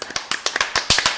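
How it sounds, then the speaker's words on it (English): A woman claps for herself, a brief run of sharp, uneven claps close by with no one speaking. "I want to clap for myself."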